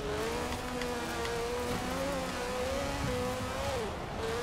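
Car engine in the racing game Forza Horizon 4, a steady droning tone that rises and falls with throttle and braking, continuous and loud throughout with no talking.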